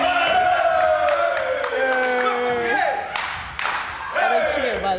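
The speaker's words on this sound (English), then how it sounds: "They cheer more than our girls' college team" Volleyball players shout and cheer during a game, a loud group chant of rising and falling voices with claps and thumps through it.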